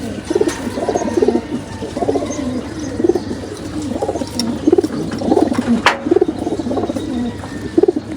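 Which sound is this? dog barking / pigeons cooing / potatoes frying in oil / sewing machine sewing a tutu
pigeons cooing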